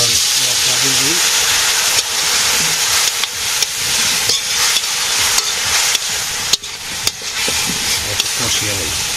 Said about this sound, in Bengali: পেঁয়াজ ভাজির সাথে সাথে আলু ভাজি হয়ে গেছে এখন মশলা দিয়ে দিই